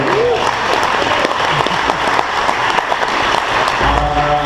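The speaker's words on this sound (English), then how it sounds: "You guys give another round of applause for Jason and everybody that's great." Loud, dense applause from a crowd at a Verve company event fills the room steadily, with some crowd noise mixed into the continuous clapping.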